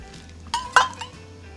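A spoon clinks against a bowl while stirring hot rice-flour dough for red bean porridge dumplings, giving two or three close, bright scraping taps over a quiet background.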